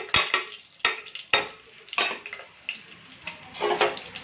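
Mustard seeds and urad dal spluttering in hot oil for a brinjal kosamalli tempering, with sharp irregular pops and crackles over a soft sizzle, close and intermittent.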